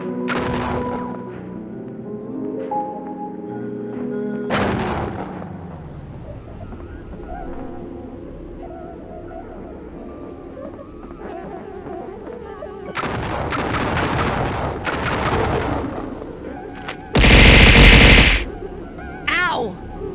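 Gunfire rings out in the video game No Players Online, with clusters of sharp shots later in the stretch and a loud, dense burst near the end over background game sounds and a voice.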